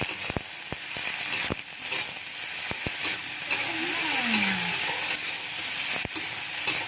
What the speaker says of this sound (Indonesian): Nah, langsung kita aduk ya